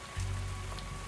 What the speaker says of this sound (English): Oh, it's a rainy day.